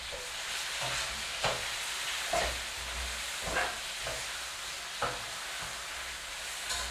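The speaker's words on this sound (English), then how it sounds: "I'll stir to coat with the brown sugar or the browning" Beef stewing in a pot with brown sugar or browning being stirred, steady soft sizzle with periodic scraping strokes of the spoon at an even, unhurried rhythm, close and moderately quiet.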